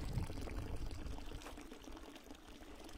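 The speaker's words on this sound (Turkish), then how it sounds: "Sıcak su akıyor." Hot water runs steadily from a village fountain outdoors, a continuous low splashing pour that stays even and moderately close with no talking.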